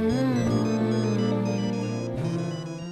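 A phone ringtone plays a melodic electronic tune, fairly loud and close, repeating with a short break near the end.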